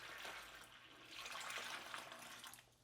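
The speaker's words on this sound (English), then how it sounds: "I just have a regular water pitcher, and all I'm gonna do is I'm just gonna dump it in like so." Water dumped from a regular pitcher onto a potted plant in a shower, a continuous gushing splash that swells in the middle and tapers off, fairly quiet.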